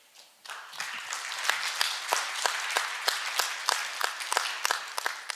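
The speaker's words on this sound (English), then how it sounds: "Would you give him a big applause?" Conference attendees start clapping after a short pause and keep up a moderate, even applause with distinct crisp claps standing out, indoors and fairly close.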